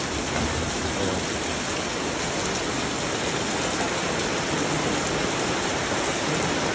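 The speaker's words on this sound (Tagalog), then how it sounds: "Bigla na naman lumakas yung ulan." Heavy rain pours during Typhoon Carina, a loud, dense and unbroken roar of falling water close by, steady throughout with no pauses.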